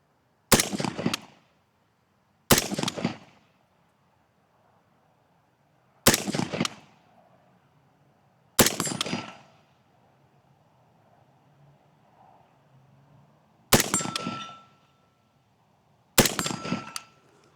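Six sharp rifle shots strike a steel plate target, each a loud crack followed by a brief metallic ring, spaced a few seconds apart with quiet outdoor air between.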